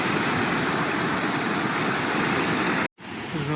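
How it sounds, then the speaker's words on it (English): Steady broadband rush of a waterfall on a nature hike near Chicago, loud and continuous, with a brief cut near the end before the roar resumes. "Here's another view of the waterfall."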